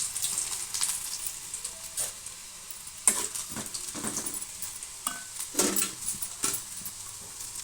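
Dried red chillies crackle and sizzle in hot oil for gongura pullagura pachadi, a soft, continuous frying hiss broken by stirring scrapes and small clinks of a utensil against the pan.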